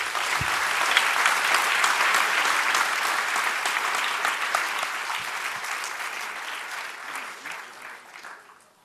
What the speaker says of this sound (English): please join me and give a round of applause to our panelists